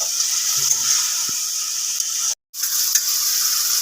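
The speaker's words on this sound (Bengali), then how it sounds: "এবার এইটা দিয়ে ভালোভাবে একটু মিক্স করে নেওয়া হচ্ছে" Fried potato, eggplant, beans and lentil dumplings are stirred into spinach chochhori in a pan, giving a steady close sizzle with scraping stirs that runs unbroken apart from one brief cut near the end.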